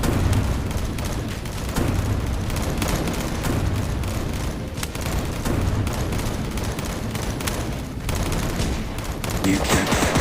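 Rapid bursts of gunfire fill a shootout in the Cactus Cowboy video game, with dense overlapping shots and booms continuing throughout, and voices break in now and then.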